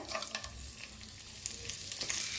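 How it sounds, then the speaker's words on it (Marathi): Whole spices frying in hot oil in a kadhai for an egg curry, making a faint, steady crackle and sizzle with a few soft stirring knocks and no talk. "सगळे खडे मसाले घेतले होते ते सगळं पहिलं फ्राय करून घेऊया।"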